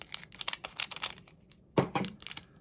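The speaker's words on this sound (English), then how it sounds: "It's okay, I brought scissors." Scissors cut open the plastic wrapper of an Edge of Eternities collector booster pack, giving close crinkling and snipping with a few sharper cracking cuts and no talking.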